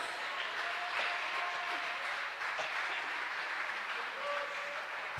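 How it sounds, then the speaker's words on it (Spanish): A church congregation applauds during a devotional teaching service, a sustained, even roar of many hands clapping in a reverberant hall, moderately loud and steady throughout. "¿Cuántos pueden darle un aplauso al Señor,"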